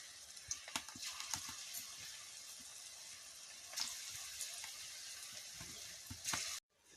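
Small pakoras frying in hot oil in a wok, giving a steady soft sizzle with scattered crackles and pops.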